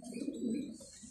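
Young pigeons coo once in a soft, low, brief call, heard close but faint.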